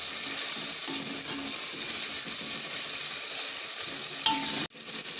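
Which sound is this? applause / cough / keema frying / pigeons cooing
keema frying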